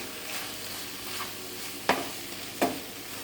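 Prawn thoran cooks in a pan with a soft steady sizzle, and two sharp stirring knocks of a utensil against the pan come near the end, close and quiet.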